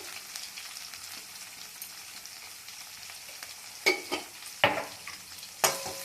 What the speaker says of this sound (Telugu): సో ఇప్పుడు పచ్చిమిర్చి ఏమో చూద్దాము ఇలా మంచిగా ఫ్రై అయ్యాయి పచ్చిమిర్చి